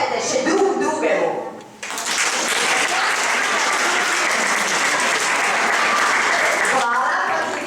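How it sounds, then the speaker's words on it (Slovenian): Talk is briefly heard, then a group of children breaks into loud, sustained clapping at an animal-themed art exhibition opening, the applause continuing for several seconds before tapering into speech again. "Zdaj pa zaploskajte še drugemu."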